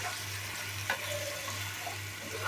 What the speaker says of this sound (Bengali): আমি আবারও একটু নেড়ে চেড়ে মাংসগুলা কষিয়ে নিচ্ছি